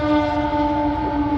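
A passing train on an Indian railway sounds a loud, sustained, steady horn close by over continuous rumbling rail noise.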